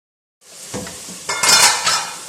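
A metal lid is lifted off a cooking pot of chicken pulao simmering with tomatoes, giving a close clatter and a scraping clink of metal cookware, then a brief rustle and clank that fade into a soft sizzle.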